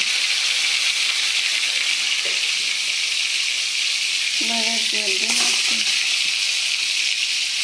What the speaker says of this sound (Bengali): প্রথম আমি তেলাপিয়া মাছটা ভাজা করে নিচ্ছি